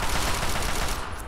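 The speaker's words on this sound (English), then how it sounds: "I guess they are so used to gunfire" Rapid gunfire from a shootout in the video game Fallout 3, a dense burst of automatic shots rattling steadily for about a second before tapering off, with no talk over it.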